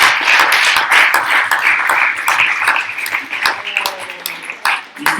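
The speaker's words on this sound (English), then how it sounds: "I would say give them one more applause" Loud, dense clapping from a concert audience, sustained for several seconds, then thinning toward the end.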